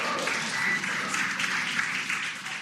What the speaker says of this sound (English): You heard the applause.